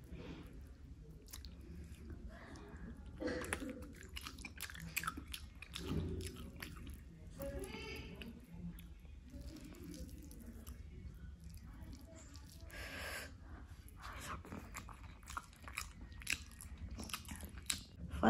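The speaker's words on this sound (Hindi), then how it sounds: "first bite" Egg curry rice with salad, freshly made and still hot, bitten and chewed close to the mic, with soft wet crunches and squishy mastication in an irregular rhythm, a few faint murmurs underneath.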